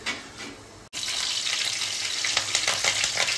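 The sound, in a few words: cumin seeds frying in hot oil for chicken curry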